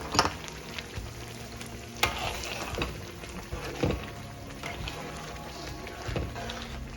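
Sambal tumis fries slowly in a pan with a steady close sizzle, punctuated by several louder scraping stirs and clinks at irregular intervals; no speech.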